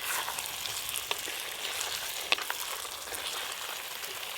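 Mutton curry cooks down in a pan, giving a faint, even frying hiss with a couple of small clicks and scrapes from stirring; no talking.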